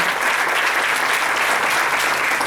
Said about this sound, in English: a big round of applause to the entire police force